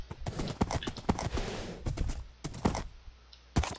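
Horse hooves clip-clop in the Minecraft video game, a series of sharp, close, fairly loud hoof taps in an uneven rhythm with brief pauses between bursts.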